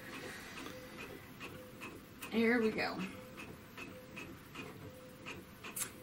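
An inkjet printer feeds and prints on transfer paper with a quiet, regular ticking rhythm close by, while a voice speaks briefly midway through.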